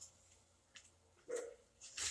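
A dog barks a couple of times indoors, short sharp yaps spaced apart, moderately near over a quiet background.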